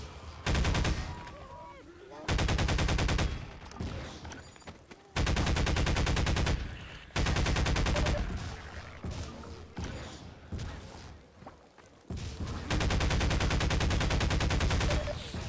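Turret gunfire in Half-Life 2 Episode 2, loud sustained automatic bursts several seconds long, separated by short gaps with quieter game noise and occasional talk between them.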